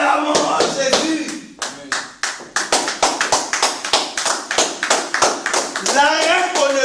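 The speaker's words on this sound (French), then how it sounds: "Acclamons à Jésus." A church congregation claps for Jesus in quick, even rhythm, many hands striking together loudly and steadily, with singing voices audible beneath and around the applause.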